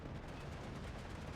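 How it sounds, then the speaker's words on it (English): Rifle fire in a League Season 6 strategy match crackles steadily as a dense, continuous stream of shots, fairly faint with no distinct pauses, like distant small-arms volleys. "now the rifles are going to kill it"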